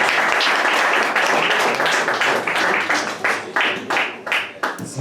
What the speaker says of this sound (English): Everybody give her another round of applause.